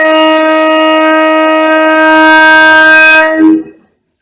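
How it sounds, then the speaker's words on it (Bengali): A train departing a station sounds a long, loud, steady horn blast with strong tonal harmonics, held close for over three seconds before it fades abruptly into silence. "ট্রেন বেরিয়ে যাচ্ছে।"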